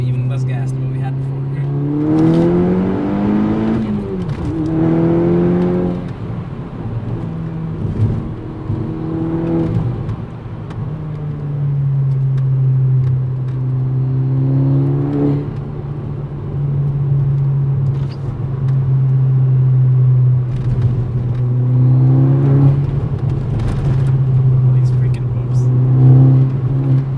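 A modified VW MK6 Golf R accelerating along a dark road, its engine note rising through repeated gear pulls with a steady low drone beneath, heard from inside the car over a long stretch.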